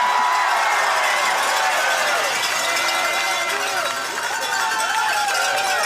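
Loud fan rally crowd for Saskatchewan Roughriders supporters, sustained roaring cheers and whoops from a large gathering, with shouted voices carrying over the din throughout.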